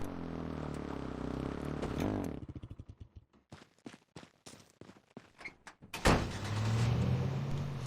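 Quad bike engine in the H1Z1 survival game, a steady motor drone that breaks into a rapid sputtering series of bursts midway, as if landing a jump, then surges back into a loud sustained rev near the listener.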